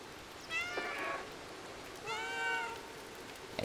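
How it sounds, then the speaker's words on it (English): Recorded cat meows play from a TV, two drawn-out mewing calls about a second and a half apart, faint and slightly distant over a steady hiss, with no talk. "come to investigate the kitty noises"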